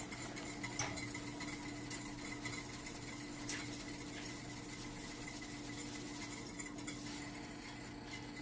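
Grits being whisked in a pot: quiet, continuous scraping and light metallic clinking of a whisk against the pot, with a faint bubbling undertone.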